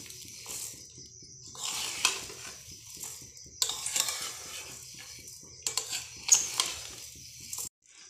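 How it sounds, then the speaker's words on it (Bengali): Homemade Cerelac ingredients dry-roast in a hot wok, with a steady scraping stir and light clinks of a utensil against the pan, recurring in bursts throughout, close and moderately loud with no talking. "সারেলাকের উপকরণগুলো একটু কড়াইতে দিয়ে দিয়েছি, কড়াই গরম হয়ে গেছে, হালকা করে একটু ভেজে নিতে হবে।"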